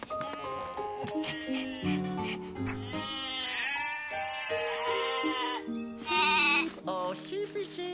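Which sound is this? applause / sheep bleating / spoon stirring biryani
sheep bleating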